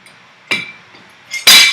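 Metallic clinks of a lug wrench and lug nuts coming off a car wheel during a tire change, a few sharp isolated taps with quiet gaps, the last one loudest.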